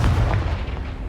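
A Confringo spell blast in Hogwarts Legacy, heard as a short, loud, booming burst that rumbles low and fades over about a second.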